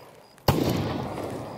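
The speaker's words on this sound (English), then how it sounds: "it was a flashbang. I forgot it was a flashbang" A flashbang grenade goes off in the shooter game Escape from Tarkov: a sharp, loud single blast followed by a sustained ringing hiss that fades slowly, with no talking.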